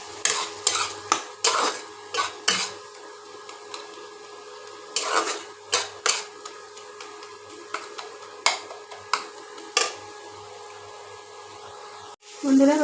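Spice masala stirred in a pan after a little water is added, for Bengali chicken makhani gravy: sharp spoon scrapes and clinks against metal in irregular strokes, close, over a faint sizzle, ending in a brief louder burst.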